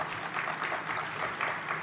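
A conference audience in Las Vegas applauding, brief continuous clapping at moderate volume with no voices over it.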